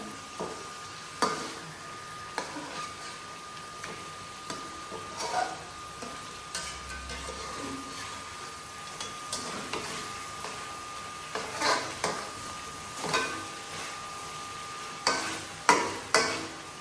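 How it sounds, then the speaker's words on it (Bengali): Large river pangas fish and eggplant are sautéed in a pan, with a soft steady sizzle under repeated clicks and scrapes of the spoon that grow a little louder and more frequent toward the end. "এত বড় পাঙ্গাস সেহেতু মাছটাকে কিন্তু খুব ভালো করে কষিয়ে নিতে হবে"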